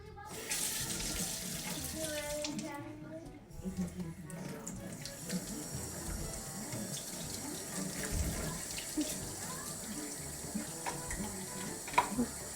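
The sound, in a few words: water running from a tap while a child scrubs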